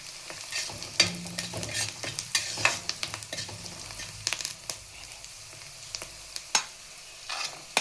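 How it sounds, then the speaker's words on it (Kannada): Chopped carrots are stirred in a frying pan for vegetable avalakki, with a spoon scraping and clinking in irregular strokes over a soft sizzle, close by and without any voice. "ನಂತರ ಇದಕ್ಕೆ ಕಟ್ ಮಾಡಿಕೊಂಡಿರುವ ಕ್ಯಾರೆಟ್ ಹಾಕಿ ಮಿಕ್ಸ್ ಮಾಡಿ"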